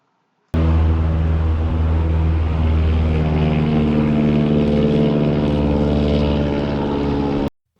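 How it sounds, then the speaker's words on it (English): A loud propeller-driven airboat on the Suwannee River roars past at close range, a steady powerful engine drone that starts abruptly and cuts off after about seven seconds. "that was the airboat going by. It sounded like airplane"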